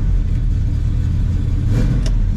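A 1967 Chevelle SS V8 idles at about 600 RPM, a loud, deep, steady rumble close by with a faint rise partway through.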